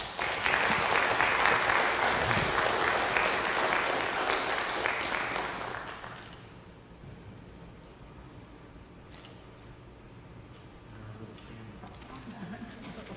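Audience at a city council meeting claps in a full, loud round of applause for about six seconds before it stops abruptly, leaving quiet room noise and faint stirring.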